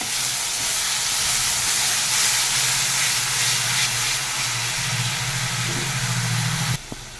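Garlic and tomato paste sizzle and fry in a pan, a loud, steady hiss that holds throughout before cutting off abruptly near the end.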